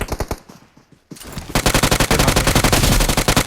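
Rapid automatic gunfire from the PUBG Mobile battle royale game, a few bursts at first, a short lull, then loud, continuous bursts of shots rattling without pause until the end.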